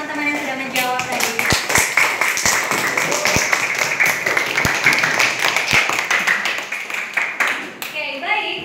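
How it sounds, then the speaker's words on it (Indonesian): Seventh-grade students clap in a school classroom, a steady burst of many hands with sharper single claps standing out, and a teacher talking over the applause. "Kita berikan tepuk tangan kepada teman-teman yang sudah menjawab tadi."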